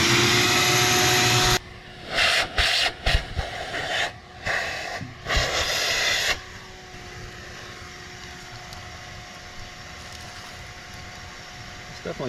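A larger vacuum runs in a workshop. It starts with a loud, steady whine, then pulses and surges in several bursts, and finally settles into a quieter, constant hum for the rest of the clip.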